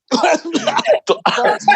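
A person coughs repeatedly in a rapid series of harsh, voiced bursts, close and loud, with short gaps between them.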